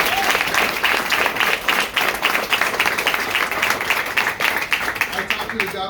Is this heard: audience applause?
yes